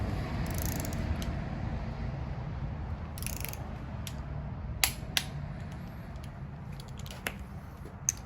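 A socket wrench ratchets on a bolt during engine assembly of a 1954 Kaiser Darrin restoration, giving soft mechanical clicks and a few sharper ticks over steady low background noise, close by and without talk.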